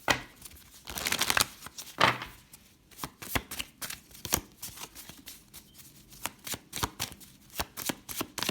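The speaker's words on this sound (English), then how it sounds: "Let me shuffle that." Tarot cards are shuffled by hand in a crisp, riffling flurry, followed by a long run of rapid, close papery clicks and taps, with no voices.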